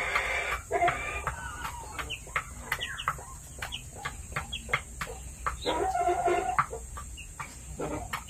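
Young chicks cluck and peep in a pen, with short repeated cheeps and soft clucking bursts scattered throughout against a faint steady hum.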